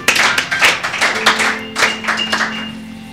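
A church congregation claps along in quick, uneven bursts, the slaps close and bright with faint sustained tones underneath, no talk in between.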